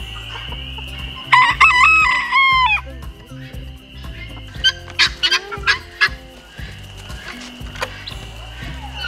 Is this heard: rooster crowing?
yes